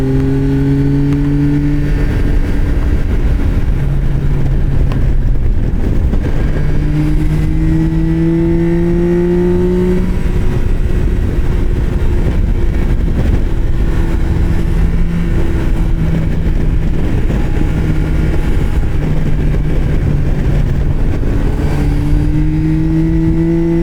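A motorcycle is ridden hard, its engine loud and close, climbing in pitch through each gear before dropping at the shifts, repeating over and over under steady road and wind roar.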